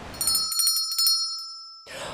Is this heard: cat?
no